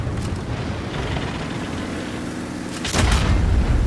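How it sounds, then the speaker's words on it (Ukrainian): A single heavy 155 mm tank cannon boom in the game World of Tanks Blitz lands near the end, a sharp broadband blast over a steady low rumble of engine noise. "Аж хитнуло від цього пострілу. Так, 155-й калібр."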